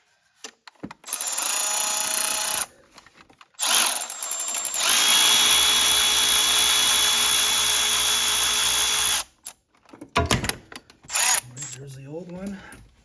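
A power drill spins out the 16mm center bolt of the belt tensioner on a 2005 BMW 325xi engine, with a brief burst, then a long steady loud whir, then scattered short spins and clattering up close.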